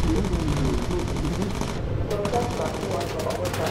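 Mark 1 machine guns firing in Bomber Crew, a continuous rattling stream of rapid shots over engine drone, with a person talking over the gunfire.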